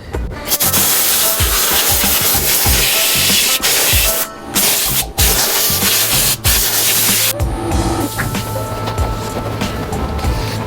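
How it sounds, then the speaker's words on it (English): An air blower forces moisture out of a car headlight housing in loud, hissing bursts, broken by several short pauses and shifts in pitch. "with the air blower, blow as much of the moisture outside of the body as we can"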